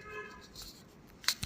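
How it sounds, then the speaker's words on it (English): Scissors cut a heart shape out of mirror paper, giving two quick, soft snips close together near the end after a quiet stretch. "I am doing a heart shape on a mirror paper with the scissors"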